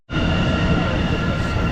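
A train, probably a slower one on a rail line near Wilmington, Delaware, rumbles past close and loud with a steady, broad roar that fills the whole stretch without pause.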